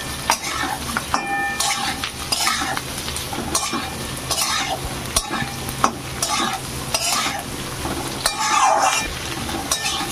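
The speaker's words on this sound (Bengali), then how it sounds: "এবার তেলের সঙ্গে পটলগুলোকে একটু ভেজে নেব।" Pointed gourd fries in oil with onion and garlic, with a rhythmic series of stirring scrapes and clinks from a spatula over a constant close sizzle.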